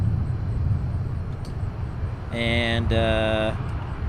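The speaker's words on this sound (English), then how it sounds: "prepare for takeoff. Oh, there's the Dreamliner, sorry." A Boeing Dreamliner takes off at a very busy airport: a steady, broad jet roar fills the clip, with a brief, bright tonal whine rising over it around the middle.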